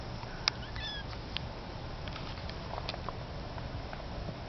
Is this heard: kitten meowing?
yes